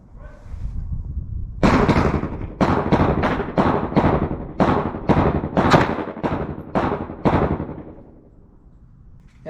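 A .380 ACP pistol fired in a rapid string of about eleven loud, sharp shots, close by and evenly spaced over several seconds, with no talking.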